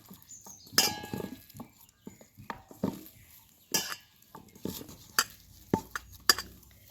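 Boiled potatoes being mashed by hand in a metal bowl for Bengali egg chops, with scattered clinks and soft squishing scrapes coming in irregular bursts, close and fairly quiet, without talking.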